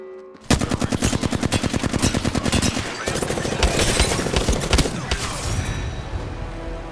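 Automatic gunfire in the Apex Legends video game comes as a fast, loud burst of evenly spaced shots, followed by heavier overlapping fire and impacts that trail off.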